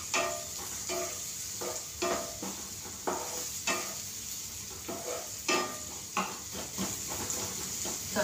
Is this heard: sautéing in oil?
yes